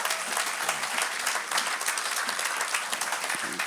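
A church congregation at an Easter worship service applauds in a dense, sustained burst of clapping from many hands, steady and fairly loud throughout.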